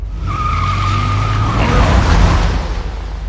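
Car tires skid and an engine roars loudly throughout a driving sequence in the video game Uncharted 3: Drake's Deception, a steady squealing whine over the rumble and no pauses.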